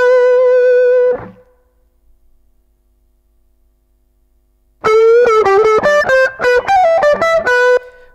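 An electric guitar runs through the Chow Centaur overdrive plugin with the gain cranked. A sustained ringing note fades into silence, then a burst of fast, loud picked notes follows, with no voices.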